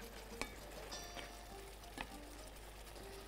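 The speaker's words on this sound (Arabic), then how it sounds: "هجيب بقى طاسه احط فيها بقيه الزبده عشان هشوح الباميه" Okra sautés in butter in a pan with a soft, steady sizzle and a few sharp clinks of stirring.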